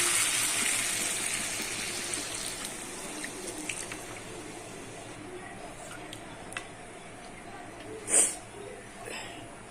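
Water is poured into a pan of cooking okra, a rushing splash that is loudest at the start and then tapers off, followed by faint kitchen clatter and a brief clink.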